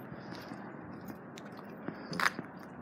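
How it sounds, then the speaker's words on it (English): A dog chewing on something in a yard, with soft close gnawing and a few small crunchy bites and scrapes, one brief louder crunch near the end. "She's chewing on something."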